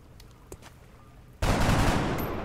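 A soldier's gunshot in the turn-based strategy game XCOM: Enemy Unknown arrives as a sudden loud burst after a quiet lead-in, followed by sustained dense rumbling noise until the end.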